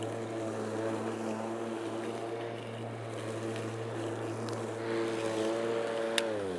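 A Wild Badger lawn mower runs steadily nearby with a droning, harmonic engine hum that rises slightly in pitch toward the end, continuous and fairly loud with no talking.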